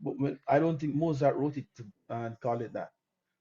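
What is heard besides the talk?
No distinct noise like a dog, phone or traffic.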